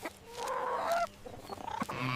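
Chickens on a snowy farm give a short, faint burst of clucking, with a few soft squawks over about two seconds.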